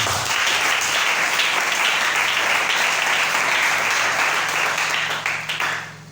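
A church congregation applauding, with dense sustained clapping from many hands that stays loud for several seconds, then thins and fades at the end.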